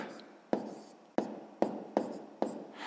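A pen or pencil writes numbers by hand on paper at close range for a long multiplication, giving several quiet scratching strokes separated by short pauses.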